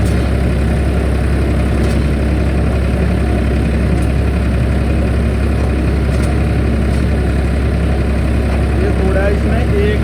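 A Farmtrac 60 F17 tractor engine runs steadily under load while pulling a rotavator in second gear, a constant loud low rumble throughout with voices talking over it.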